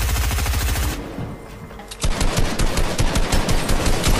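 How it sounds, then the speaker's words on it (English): Rapid, sustained assault-rifle fire is spammed in a Fortnite Zone Wars match: loud, close, dense automatic bursts, a short lull, then another unbroken volley. "he's spamming with the AR"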